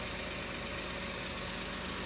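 A Suzuki Multicab engine idles quietly and evenly, a steady low mechanical hum with a faint regular pulse and no speech over it.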